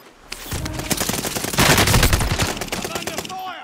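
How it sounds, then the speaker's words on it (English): Sustained heavy gunfire in the video game Call of Duty: Modern Warfare, close and loud, with overlapping automatic bursts building to a dense peak and then easing off. "I'm under fire."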